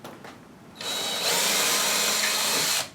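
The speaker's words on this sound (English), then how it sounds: "You're going to pre-drill for this plastic sleeve." A power drill bores a pilot hole into a wall for a plastic anchor sleeve, revving up after a short quiet start and then whining steadily at close range for about two seconds before stopping abruptly.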